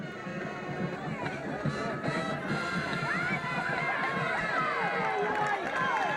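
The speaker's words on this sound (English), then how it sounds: "the crowd over here exhorting the fellas to get a yard" Football crowd at a 2000 high school game between Upper Dauphin and Halifax, cheering the team on a fourth-down play. It makes a steady hubbub of shouting and cheering voices with some whistle-like calls, moderately loud and continuous.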